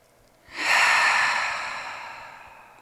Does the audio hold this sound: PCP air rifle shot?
no